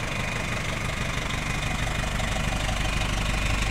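A 2000 E-ONE fire truck engine idles steadily and loudly nearby, a continuous low rumble with a knocking, uneven throb throughout and no talk.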